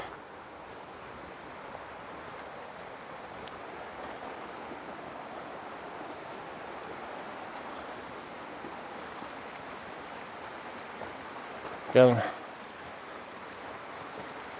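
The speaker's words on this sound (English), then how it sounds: "just water running underneath, coming down, finding its way." Creek water runs steadily beneath a moss-covered tree at Ricketts Glen State Park, a soft continuous trickle and rush with outdoor ambience, interrupted near the end by one brief louder knock or splash.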